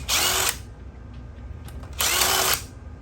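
Power tool with a half-inch socket loosening a bolt on a garage door, two loud close bursts of whirring drill motor separated by a quieter pause.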